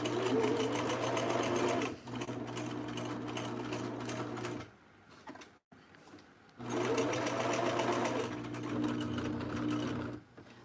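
A sewing machine stitches vintage thread clusters, running loud and steady with a fast regular whir, pausing briefly midway, then starting up again for several more seconds.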